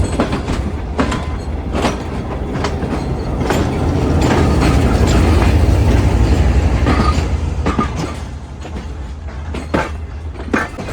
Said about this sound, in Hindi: फाइनली तकरीबन आधा घंटा लेट हमारी ट्रेन ने कराची कैंट रेलवे स्टेशन को छोड़ दिया है।